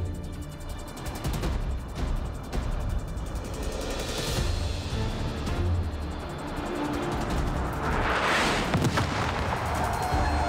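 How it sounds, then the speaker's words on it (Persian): Ababil rocket artillery fire and explosions in a war drama series form a loud, continuous rumbling barrage with repeated heavy booms and a roaring rush of noise throughout. "حبیب لطفاً موقعیت رو ترک نکن تا آتش بازی ابابیلا کاملاً تموم بشه"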